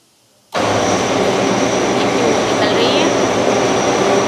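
An air compressor feeds air into a tube-making die in a toy-making workshop. After a short silence, a loud, steady roar of rushing air cuts in abruptly and holds constant and close.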